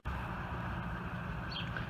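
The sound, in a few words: traffic noise from busy Main Street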